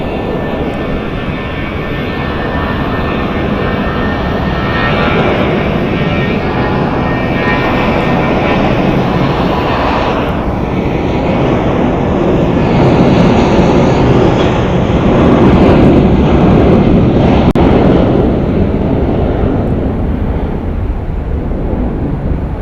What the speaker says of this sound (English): Currently, this is our Omaha flight that's departing right now.